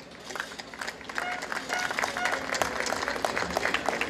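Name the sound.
audience applause at a swearing-in ceremony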